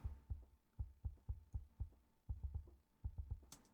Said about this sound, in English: So the sub kick sounds like this.